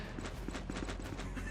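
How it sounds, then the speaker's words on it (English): Troops trot across the battlefield in the Stick War Trojan War game, a quick run of clip-clop footfalls, repetitive and close over a steady backdrop. "That obnoxious sound effect of them trotting down the battlefield."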